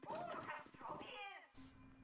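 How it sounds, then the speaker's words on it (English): A cat meows in the video game Baldur's Gate 2, a short mewing call heard close and mixed with speech and game sounds. "There's a cat."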